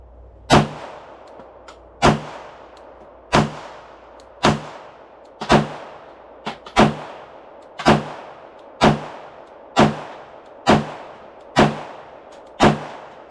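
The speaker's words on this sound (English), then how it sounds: "My first shot was off to the left, but I don't shoot irons a lot" Glock 19 pistol shots ring out one at a time at an indoor target about three yards away, roughly a dozen loud cracks spaced one to two seconds apart, each with a short decaying echo.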